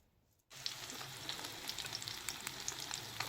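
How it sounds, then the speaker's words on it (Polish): Cheese pancakes fry in a pan of butter and a little oil, starting abruptly after brief silence into a steady close sizzle with scattered sharp pops and crackles. "Placuszki uformowałam, smażą się."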